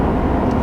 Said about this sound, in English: there's a little bit more tire noise on this